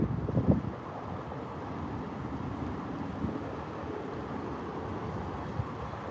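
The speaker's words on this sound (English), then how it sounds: "I'm not going to reel right now because the wind is high" Strong wind gusts buffet the microphone outdoors while crappie fishing in New Jersey, a continuous low rumbling roar with a brief louder thump near the start.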